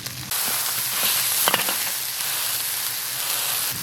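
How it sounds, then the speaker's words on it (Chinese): Ginger, garlic cloves and chili sauce stir-frying in hot oil in a wok, a loud continuous sizzle with a few sharper crackles and scraping stirs, no voices. "锅里留点油，下入生姜蒜瓣，加1勺辣子酱、红酒酒， 炒香以后倒入开水"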